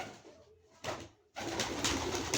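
Soft pigeon cooing, low and throaty, comes in short bursts with rustling noise in between; fairly close and moderately loud.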